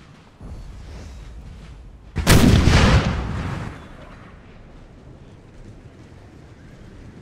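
Musket volleys and artillery in Napoleon Total War: a loud booming burst of gunfire erupts mid-way over a low battlefield rumble, then fades back to distant ambience.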